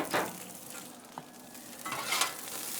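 Shredded carrots and onions hit a hot Blackstone 22-inch griddle and sizzle faintly, with a soft hiss rising near the start and again near the end, plus a light scrape of a spatula.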